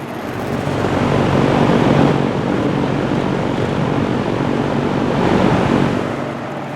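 A vintage 1970s Penney's Lakewood box fan runs loud and close, a steady broadband whoosh of moving air that swells slightly and eases near the end.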